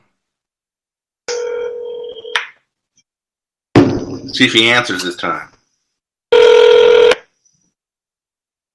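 A telephone dialed for a call on a radio show: a steady tone, then a burst of someone speaking, then another loud sustained tone, with silent gaps between.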